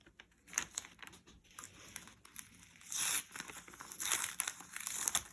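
Tape pulled away from painted paper, giving uneven crinkling and ripping bursts that rise louder in the later seconds, close and without talk.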